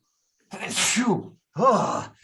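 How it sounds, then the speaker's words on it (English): Two loud bursts a second apart: a drawn-out, strained sneeze followed by a shorter vocal burst, with no other sound around them. "I'm going to sneeze"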